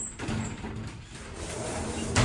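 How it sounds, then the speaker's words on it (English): A sliding door in a container home rolls along its track with a grinding, rumbling slide lasting about two seconds, ending in a soft knock, with no talking. "But so there's sliding doors."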